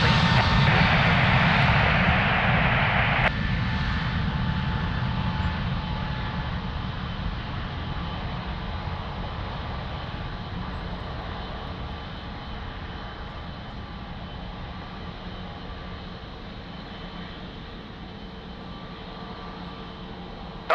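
Jet engines of a Boeing 777 roar at Lisbon Airport as it lines up on the runway, a loud steady rumble and whine that eases slightly after a few seconds and holds on.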